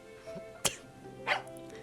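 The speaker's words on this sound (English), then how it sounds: "Something barked near my leg when we were crossing the schoolyard" A dog barks in the horror visual novel game Tiny Bunny, a couple of short sharp yips spaced apart over a quiet, hum-filled game background.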